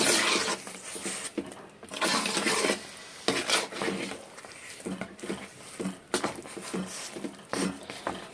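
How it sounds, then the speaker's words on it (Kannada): Semolina (rava) being stirred in a pan for upma, giving a dry scraping rasp of spoon against metal in repeated uneven strokes, close and fairly loud with no talking. "ಇವಾಗ ರವೆ ಹಾಕಿದ್ದೀನಿ ಚೆನ್ನಾಗಿ ಮಿಕ್ಸ್ ಮಾಡಬೇಕು"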